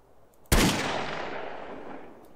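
A single loud gunshot in GTA San Andreas Multiplayer cracks sharply after a quiet moment, its echoing tail slowly decaying over the next two seconds with no talk.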